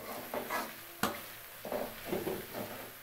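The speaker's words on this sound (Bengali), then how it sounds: "আদা রসুন দিয়ে একটু কষাই নিলাম" Ginger and garlic being stirred and sautéed in a pan, with soft sizzling and several scraping stir strokes, one sharp clank near the start.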